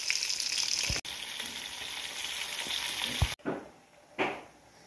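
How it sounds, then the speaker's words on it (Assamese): Fish frying in a pan sizzles steadily up close, broken by a few sharp clicks and bumps of the pan, with the crackle easing off and flaring again near the end. "এইফালে এয়া মাছ ফ্ৰাই কৰি আছোঁ"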